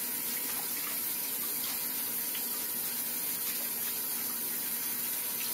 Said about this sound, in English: wash the vegetables.